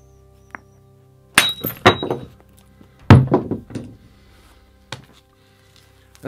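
Flint being knapped into a stone tool: a few sharp, glassy cracks and knocks of stone striking stone, spaced irregularly across quiet pauses, loud and close, with flakes breaking off.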